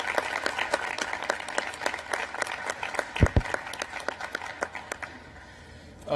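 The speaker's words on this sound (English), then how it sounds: "another round of applause for really a tireless public servant and all the work he's done." Audience applause at a National Space Council meeting: steady, dense clapping from a seated crowd, moderately loud, tapering off near the end.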